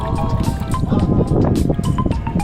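Water pours and splashes noisily from a 10-liter bucket into a container, a continuous close gurgling stream lasting a couple of seconds.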